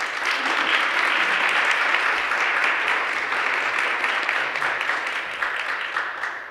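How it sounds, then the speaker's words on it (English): A church congregation gives a steady, full round of applause during a Sunday service, sustained and fairly loud throughout before tapering slightly at the end. "Let's give her a welcome round of applause."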